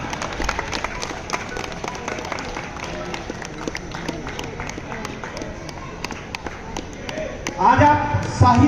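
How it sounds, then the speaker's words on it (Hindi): A large audience claps loudly and steadily at a literary gathering, with dense, continuous applause throughout and a voice breaking in near the end. "जोरदार तालियां।"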